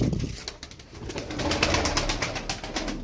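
Young blue game pigeons coo softly and repeatedly at close range, with faint rustling and flutter-like noise around them and no talking.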